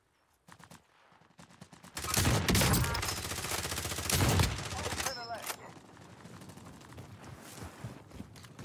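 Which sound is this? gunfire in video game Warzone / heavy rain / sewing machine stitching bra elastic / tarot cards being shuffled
gunfire in video game Warzone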